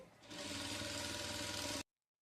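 A sewing machine stitches a petticoat seam in one steady, fast whirring run of close, even stitching that stops abruptly, with no talking.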